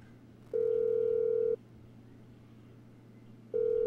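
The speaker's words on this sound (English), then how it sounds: "be nice if you could use the desk phone." Desk phone dialing in the video game GTA 5 Online, set in an office: a steady electronic tone holds for about a second, drops to a low hum, then starts again near the end. No one talks.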